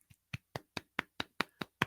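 Slow, steady hand claps, about eight evenly spaced crisp claps close by with silence between them, no crowd behind them.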